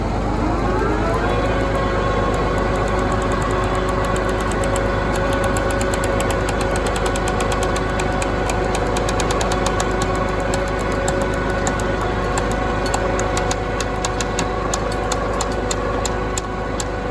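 Engine idling steadily and loudly throughout while pulling twin tree stumps with snatch block pulleys, a continuous rumbling drone with a faint rising whine and no talk.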